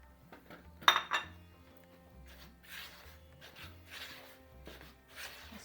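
A spoon stirs semolina and icing sugar in a bowl for a semolina pudding. Soft scraping and occasional clinks come at irregular intervals, faint and close, with one sharper knock near the start.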